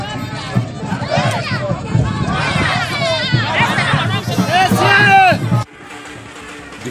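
A large crowd of youths, women and community leaders marches along the Tumbia Amasuma Road in Yenagoa, a dense roar of shouting and cheering voices that stays loud and continuous before dropping off abruptly.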